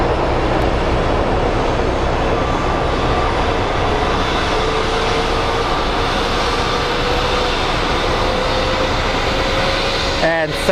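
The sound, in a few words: airliner starting up or its APU running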